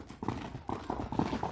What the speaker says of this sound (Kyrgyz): Бир чабып коюңчу, чуркашын да көрүп коелу.